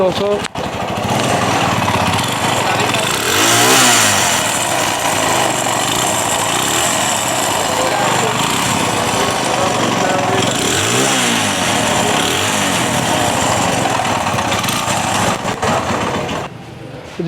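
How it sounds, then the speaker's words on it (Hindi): A Suzuki GS 150 motorcycle engine idles and revs steadily close by, a continuous buzzing mechanical drone with occasional slow swells in pitch, running without pause. "अब मैं आपको इसको स्टार्ट करके इसका साउंड चेक करवाता हूँ"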